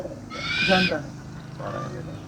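A male owl hoots from close by, giving a strong breathy hoot and then a softer one with a gap between them.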